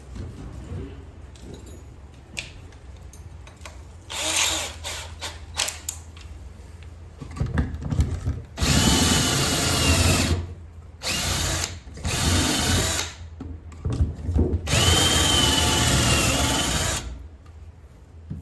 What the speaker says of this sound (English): So I'm gonna drill here and here.